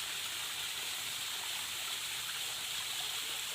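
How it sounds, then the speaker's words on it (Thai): A small waterfall pours over rocks on a forested mountainside, a steady, broad rushing hiss of water that holds even and close throughout, with no voices. "บนภูเขาครับเป็นน้ำตกเล็กๆครับ บรรยากาศสวยงามมาก ๆ ครับโขดหิน ครับนะครับ ไหลลงมาจากข้างบนนะครับ"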